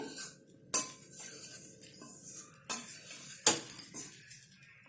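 A metal spoon scrapes and clinks against a pan while idli pieces are stirred and fried, sharp close knocks at irregular intervals over faint sizzling, with no talking.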